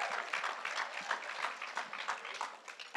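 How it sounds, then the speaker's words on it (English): Distant, faint applause rises from a crowd in a ballroom at an annual community meeting, a steady patter of many hands clapping for about three seconds. "give him a round of applause"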